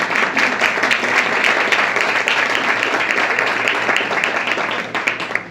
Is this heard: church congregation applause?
yes